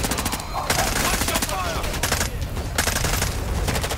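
Rapid bursts of automatic gunfire in Call of Duty Warzone, loud and close, with rattling volleys broken by brief gaps.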